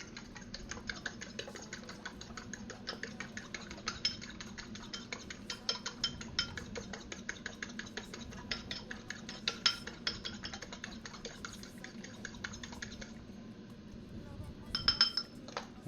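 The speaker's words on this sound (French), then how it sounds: "Donc on mélange à la fourchette" A fork beats eggs in a bowl for an omelette with potatoes, making fast, steady clinking taps against the side that run for a long stretch before stopping, with a short flurry near the end.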